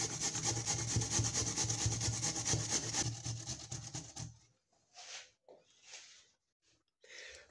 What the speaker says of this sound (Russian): Картошку натираю на терке.